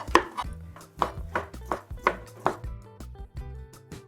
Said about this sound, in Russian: И теперь филе уже нарезаю небольшими кусочками.